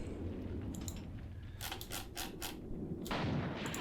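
Gunfire in the wartime tactics game Graviteam Tactics: a quick cluster of sharp, loud cannon reports, then a further heavy blast, over a low rumbling battlefield background with no talking.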